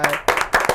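Several quick bursts of clapping for Henry during a podcast, close and short, rising and cutting off in uneven claps.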